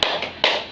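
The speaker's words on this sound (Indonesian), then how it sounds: "Ibu mau dengar tepuk semangatnya ya." A class of young pupils claps out a short rhythmic cheer, a few sharp hand taps in quick succession, close and clear with no voices.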